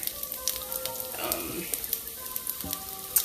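Chopped onions sizzling in olive oil in a pan, a steady crackling fry with scattered pops and a brief stirring scrape, close and continuous.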